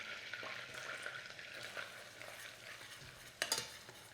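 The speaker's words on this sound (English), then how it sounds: "So just give that a really quick stir." Bashed garlic and ginger fry in bubbling oil in a pan for Korean fried chicken, a steady quiet sizzle with light stirring scrapes and one sharper utensil clink near the end.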